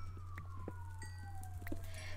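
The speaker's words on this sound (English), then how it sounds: "Police sirens, please go away." A faint police siren wails in the distance, its pitch gliding slowly downward over a steady low hum.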